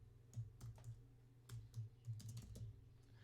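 Someone types on a computer keyboard while writing code, with soft, close keystrokes falling in small irregular clusters and pauses, nobody speaking.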